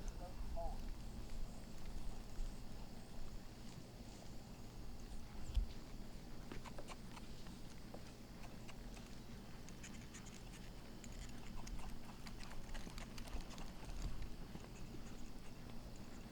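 A pole bending horse walks in training, its hooves giving faint, irregular scuffing clip-clops on the ground beneath a steady low hum, with a person speaking now and then.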